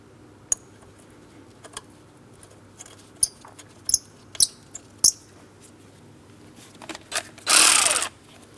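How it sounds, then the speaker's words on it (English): Tightening a 10mm bolt on a 2003-2007 Cadillac CTS 3.6L V6 bracket, sparse sharp metallic clicks and taps, then a short buzzing burst of a tool near the end. "reinstall your 10mm bolt to make sure it's nice and tight"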